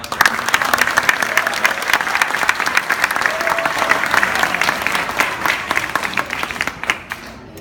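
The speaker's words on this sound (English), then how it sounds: "Let's give one more round of applause." A crowd at a school DARE graduation claps loudly and steadily for several seconds, a thick continuous patter of many hands that thins slightly toward the end, with little speech over it.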